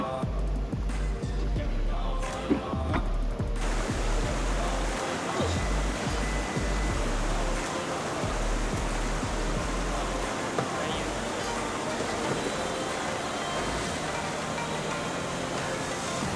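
A car driving through a rocky stream, with rushing water, thuds and knocks of tires over stones, and a voice speaking over the churning noise.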